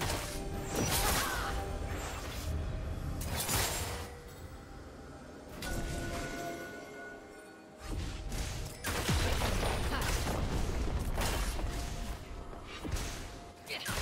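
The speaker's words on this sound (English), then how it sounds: "Red Team's turret has been destroyed." Turret destruction in League of Legends, a loud crunching crash with heavy impacts and debris-like bursts that recur across the stretch, dense game effects layered over continuous battle noise.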